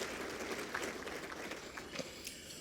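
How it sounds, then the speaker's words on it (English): A luncheon audience at a civic lecture forum in Akron applauds steadily for a couple of seconds, a dense, moderately distant wash of clapping with a few sharper claps standing out. "Round of applause."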